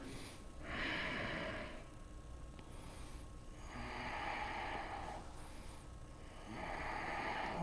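Slow, deep breaths during a twisting yoga pose come in three long waves, each a soft rushing exhale, close and quiet, with no talking.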